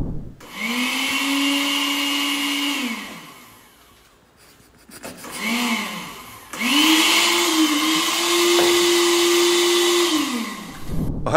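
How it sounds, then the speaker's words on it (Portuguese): An electric kitchen blender whirs in a played internet video, its motor whining up to a steady high pitch, dropping out briefly, then spinning up again in a longer loud run. "Ela tá ligando a máquina, querendo que o liquidificador funcione do lado de cá"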